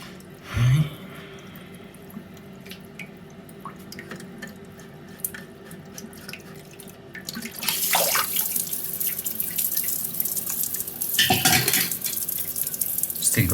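Water runs from a tap while a toilet cistern is drained during a float valve diaphragm replacement, a steady hiss that grows louder and fuller partway through, with a brief knock early on and clattering near the end.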